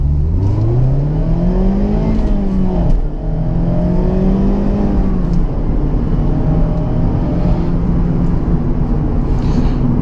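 A Mazda Miata pulls hard in first gear, its engine note climbing steadily in pitch over a continuous loud drone that stays close throughout with no talk.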